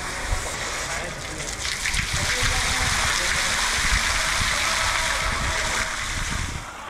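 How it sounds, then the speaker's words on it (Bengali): A water fountain in a small pond at Dream World Amusement Park in Dhaka splashes in a steady, continuous rushing hiss that holds at an even level throughout. "তারপর ছাড়া হলো পানির ফোয়ারা। পানির কলকলো রিমঝিম শব্দ"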